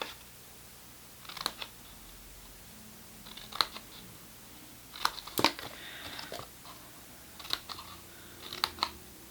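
Scissors snip through card up to a score line for an Easter creme egg gift basket, several short crisp cuts in small clusters spaced across the stretch, close and fairly quiet.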